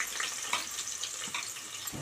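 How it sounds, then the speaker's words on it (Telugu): Onions sizzling in hot oil in a pan, a continuous close crackling hiss with small pops and no talk. "ఇప్పుడు ఆనియన్స్ వేసుకుందాము"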